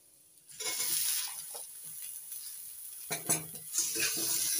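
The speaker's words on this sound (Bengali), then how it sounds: "নাড়াচাড়া করে নিচ্ছি" Malabar spinach stalks tossed with fried potato and green banana in a hot pan, a steady close sizzle broken by the scrape and clatter of a spatula stirring, with no talking.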